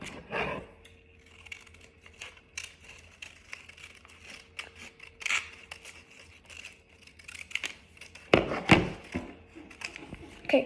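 Scissors snipping through a sheet of paper for an origami cube, a few quiet close cuts and paper rustles, with a louder crinkling burst near the end and soft background hum.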